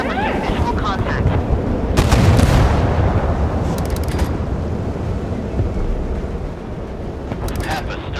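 Naval gunfire booms and impact blasts hit a warship in the game Force of Warships, heavy rumbling explosions over a constant roar of wind and sea, with a few sharper bursts.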